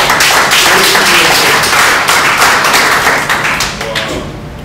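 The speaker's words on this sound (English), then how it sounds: "So I want to give Sterling a round of applause." An audience at a school graduation ceremony claps for Sterling in a dense, loud round of applause that thins out and fades toward the end.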